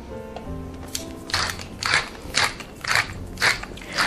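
A pepper grinder cranks over a cooking sauce, several rhythmic crunchy grinding bursts close up after a quieter stretch of kitchen noise.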